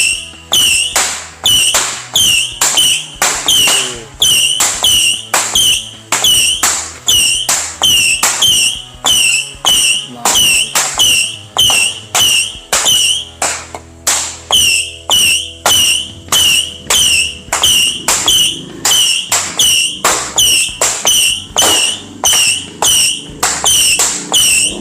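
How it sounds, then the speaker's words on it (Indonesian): A box of 50-shot mouse firecrackers (mercon tikus) going off in a rapid, steady series of sharp whistling cracks, each shot a loud squealing pop repeating about twice a second for the whole stretch. "Oke, selanjutnya kita nyalain mercon tikus box, ini yang 50 kali bunyi."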